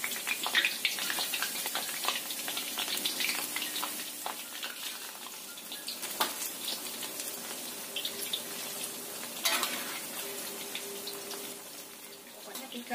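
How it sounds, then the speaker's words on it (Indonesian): Eggplant slices frying in plenty of oil over medium heat, a continuous hissing sizzle close by with small crackles and occasional utensil taps, steady and fairly loud. "Goreng sekitar 3 menitan."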